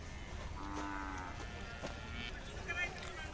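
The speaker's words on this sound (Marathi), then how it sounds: "जुळलेली बडाव बैलाची जोड आहे मोठ्या मापाची ताकदीची" Khillar bulls and cattle at a crowded rural cattle market fair in Chadchan, Vijapur district, give a low moo amid a busy background of crowd voices and chatter.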